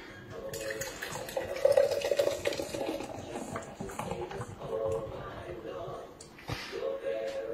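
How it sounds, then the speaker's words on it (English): Cold beer pours from a bottle into a glass in a home kitchen, a soft, steady liquid splash and fizz that swells and fades over several seconds, close by and quiet. "You see me pouring it out."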